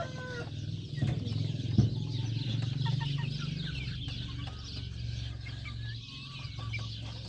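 Hens cluck steadily with chicks peeping in a busy, close chorus inside a coop, punctuated by a few sharper squawks over a constant low background hum.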